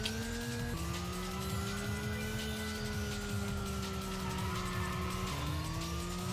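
A car in a video game drifts under heavy handbrake, engine droning steadily as the tires skid and squeal continuously, the pitch shifting with sudden drops and climbs through the slide, loud and with no talk.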